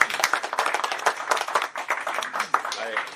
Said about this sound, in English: But we can at least clap.